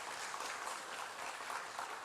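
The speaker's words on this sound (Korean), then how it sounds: "박수로 환영을 하시고요" A church congregation claps to welcome a newly registered member during a Sunday morning service, with steady, dense applause filling the room for a couple of seconds and no voices over it.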